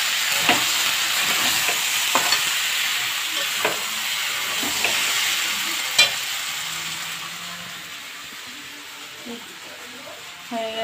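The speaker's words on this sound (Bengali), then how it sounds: "একটু নাড়িয়ে নিয়ে নেব।" Okra (bhindi) masala curry in a pan is stirred with a spatula, giving a steady soft sizzle broken by sharp scraping clicks and taps against the metal, with faint background voices.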